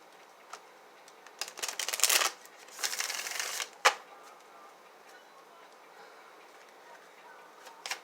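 A deck of tarot cards is shuffled close by in a few quick riffling bursts with soft taps and short pauses between, fairly quiet overall.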